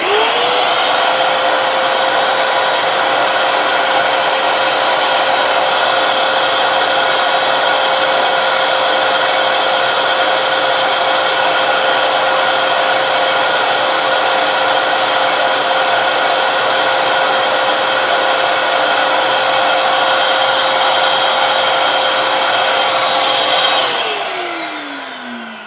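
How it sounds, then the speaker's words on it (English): A shop vac fitted with a new filter runs loud and steady, a constant whining roar that holds for over twenty seconds before winding down at the end. "So we start our vac."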